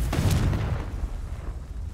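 A Confringo blasting spell explodes in the Hogwarts Legacy video game, a deep booming blast with a rumbling tail that fades over about two seconds, loud and alone.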